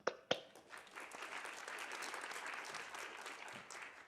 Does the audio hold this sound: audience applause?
yes